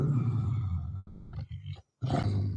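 A dog's deep, lion-like growl played back from a recording, loud and continuous at first, then broken into a few rough rumbling bursts separated by brief pauses, heard alone.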